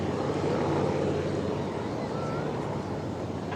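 Flying Bulls aircraft engine at takeoff, a loud, continuous propeller drone filling the whole stretch with a steady roar and no clear break.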